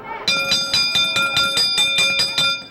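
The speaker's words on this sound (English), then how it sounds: "There's the bell." A wrestling ring bell rung rapidly about nine times in an even, ringing burst, loud and close with a bright metallic tone.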